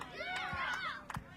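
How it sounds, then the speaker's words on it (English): A wrestling crowd at a Thunder Mountain Wrestling event cheers and shouts, a brief swell of many raised voices with a few sharp claps or thumps, fairly faint and distant. "Maverick's getting the crowd fired up here."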